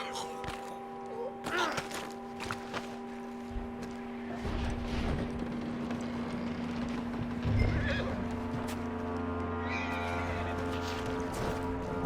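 In Red Dead Redemption 2, a horse gives a loud whinny as its hooves clip-clop on the ground, with game speech and a steady ambient hum underneath.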